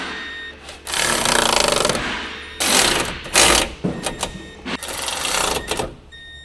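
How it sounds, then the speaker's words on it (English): An electric impact wrench with a 10 mm shallow socket tightens radiator fan mounting bolts on a 2006-2015 Honda Civic, giving loud rattling bursts: two longer runs, then several short hammering pulses, close up. "Use a medium 10 mm shallow socket with an electric impact wrench. Tighten the radiator fan mounting bolts."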